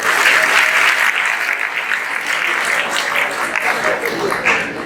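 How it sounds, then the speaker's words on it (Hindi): An audience at a Hindi comedy poetry show breaks into loud, steady applause. The dense clapping stays strong for the whole stretch, with faint voices mixed in. "जोरदार ताली हो जाएगी।"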